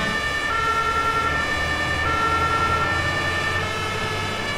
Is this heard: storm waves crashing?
no